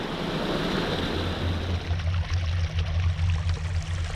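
Fast-flowing creek water rushes steadily and loudly close by at a Kentucky camping and trapping site, a continuous churning wash with a low engine-like hum joining partway through.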